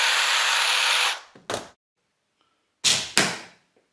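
A Parkside cordless drill from LIDL with a broken gearbox whirs loudly and steadily, cuts off, then gives three short, close bursts of spinning with pauses between.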